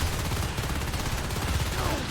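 Light machine gun fire in Natural Selection 2 during a competitive NSL Season 18 match: a dense, continuous rattle of rapid shots that runs steadily for the whole moment at an even, loud level.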